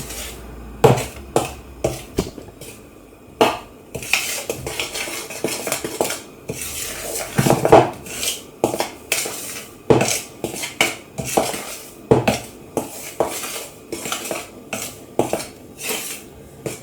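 Red velvet cake mixture being stirred with a spoon in a bowl, heard as a series of sharp rhythmic clinks and scrapes against the bowl, close up and alone.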